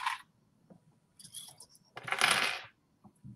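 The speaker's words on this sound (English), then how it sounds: "I'm going to grab some clips to hold this in place." Small sewing clips clatter and click as they are grabbed from a container for a wax canvas zipper project, a few sharp metallic-plastic rattles with a longer jangling burst near the end.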